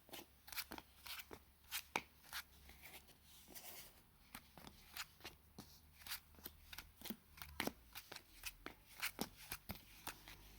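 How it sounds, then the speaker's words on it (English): A deck of Yu-Gi-Oh trading cards is shuffled by hand over and over, producing rapid, irregular snapping riffles and soft slaps, close and quiet with no talking. "I'm generally not very good on video when I'm shuffling decks"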